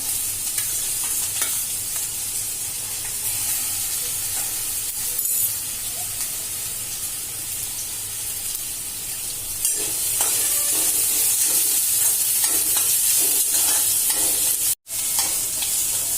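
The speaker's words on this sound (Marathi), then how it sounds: "स्लो गॅसवर आपण भाज्या चांगल्या शिजवतोय" Capsicum, onion and carrot cook in a pan over a low gas flame, giving a steady sizzling hiss with occasional stirring scrapes that grows slightly louder partway through.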